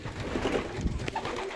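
Pigeons wearing O-rings and blue clips coo softly in low, burbling bursts against a noisy background, close by and fairly faint, with no talking.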